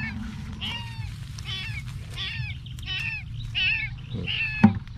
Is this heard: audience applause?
no